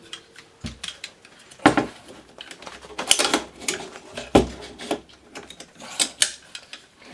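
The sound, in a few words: Swiss SWT AR-15 magazine inserted and locking in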